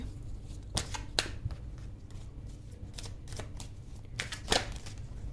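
Tarot cards are shuffled by hand in a quiet room, giving a run of soft papery riffles and flicks with a few sharper card snaps, close and fairly faint.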